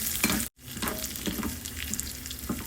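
Raisins, charoli and other dry fruits lightly sautéed in a pan give a soft, steady sizzle with small crackles, broken by a brief dropout near the start.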